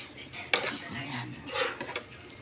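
A utensil stirs corn, radish, moringa and pechay in a pot for a sautéed vegetable soup, giving a sharp metallic clink followed by softer scraping and clattering, close and brief.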